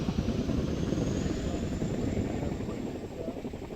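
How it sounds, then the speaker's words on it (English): An RAF Chinook helicopter at Odiham, a steady broadband rotor and engine roar holding at an even level throughout, fairly close and with no pause. "looking at the RAF's very own Chinook"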